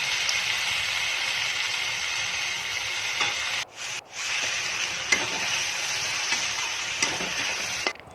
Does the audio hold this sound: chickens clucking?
no